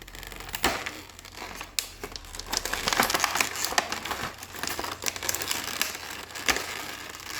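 Taped packaging of a toy action figure being pulled open, with steady crinkling and crumpling of plastic and card and a few sharper tearing snaps, close and continuous with no talking.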